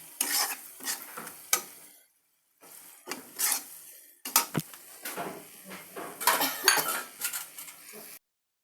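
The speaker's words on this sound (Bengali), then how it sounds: "কড়ার মধ্যে তেল দিয়েছি, পেঁয়াজ কুচি, মরিচ কুচি দিয়ে ভালোভাবে নাড়াচাড়া করছি" Chopped onion and chili fry in oil in a wok while a spatula stirs, producing bursts of close metallic scraping and clatter over a light sizzle, separated by short silent pauses.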